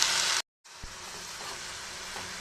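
Drumstick leaves sautéing in a hot pan, a steady close sizzle broken by a brief silent gap near the start, then continuing evenly.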